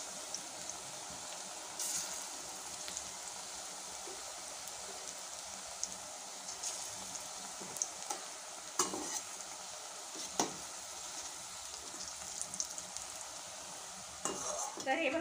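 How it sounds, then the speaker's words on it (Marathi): Onion bhaji fritters frying in a pan of hot oil, a soft steady sizzle with occasional faint clinks and stirring sounds, fairly quiet throughout. "आता 5 मिनिटांमध्ये आपण कांदा भजीसुद्धा तळून घेऊया"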